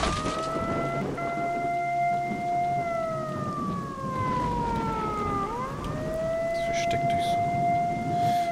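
Long civil-defense siren wail in the video game S.T.A.L.K.E.R.: Shadow of Chernobyl, steady tones dipping and rising again over a dense rain-like hiss, distant and continuous.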